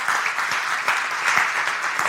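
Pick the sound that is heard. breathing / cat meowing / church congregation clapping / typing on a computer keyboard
church congregation clapping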